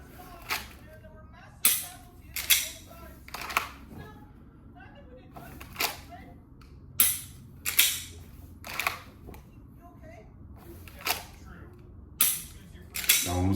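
Around a dozen sharp, close gunshots crack out in an uneven rhythm during reload practice at a range, separated by short pauses for reloading.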